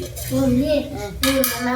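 Dishes and pots clatter and scrape close by, a steady scrubbing with a brief louder clank near the end, no voices.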